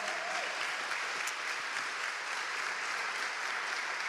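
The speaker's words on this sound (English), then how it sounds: "Let's give Mayor Proctor another big round of applause" Audience applause at a scholarship event honoring a mayor, steady and dense throughout, with many hands clapping at once in a broad, even wash of sound.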